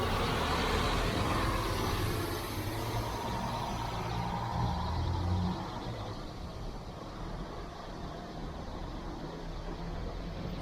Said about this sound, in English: And a very noisy bus.